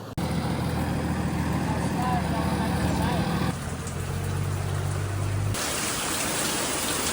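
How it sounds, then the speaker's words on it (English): Torrential rain pours steadily during flooding, a dense hiss that stays loud throughout, with a vehicle engine rumbling underneath partway through and then cutting off as the downpour continues alone. "Just more torrential rain coming in."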